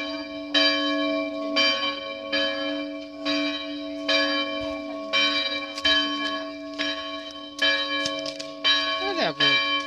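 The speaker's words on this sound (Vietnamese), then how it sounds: "Tiếng chuông họ" Repeated, evenly spaced peals of church bells resonate loudly and continuously, calling worshippers to a Mid-Autumn Festival mass at a newly built H'Mông church.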